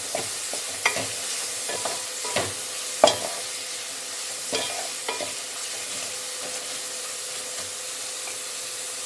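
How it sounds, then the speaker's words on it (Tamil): A sprig of curry leaves drops into hot oil and fries with a steady close sizzle, punctuated by scattered sharp pops and stirring clicks over about nine seconds; no voices. "ஒரு கொத்து கருவேப்பிலை போட்டுக்கலாம்"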